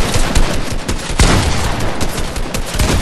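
Rapid automatic gunfire from a Fortnite match, loud and close, a dense fusillade of overlapping shots with a few heavier booms, no voices over it.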